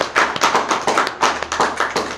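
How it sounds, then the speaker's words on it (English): Applause from a small audience at a comedy show, sparse hand claps in uneven bursts, close and moderately loud, with distinct individual claps rather than a dense roar. "Give her a round of applause."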